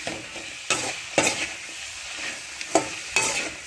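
Ridge gourd with salt sautés in a pan: steady frying sizzle under a few sharp scrapes and clatters of a spatula stirring against the metal, spaced irregularly and fairly close.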